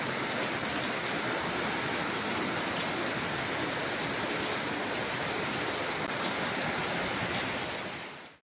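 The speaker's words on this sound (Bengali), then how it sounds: "বৃষ্টি শুরু হয়ে গেছে" Rain falls outdoors at a home, a steady dense hiss of drops on surfaces that continues evenly and then cuts off abruptly at the end.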